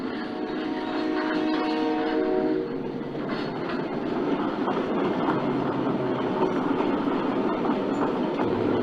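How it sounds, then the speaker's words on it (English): A model wreck train runs on a Penn Central layout with a steady, dense rumble and rail clatter, a horn-like tone sounding briefly early on, all continuous and fairly close. "we see the wreck train from Weehawken coming to take care of that wreck in Kingsport"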